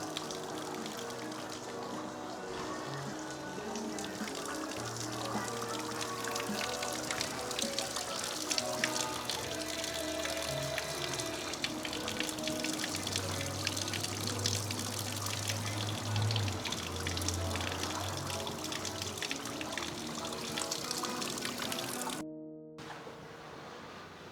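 Small stream flowing at a rural picnic spot in Georgia, a steady soft trickle and pour of water heard alone at low level.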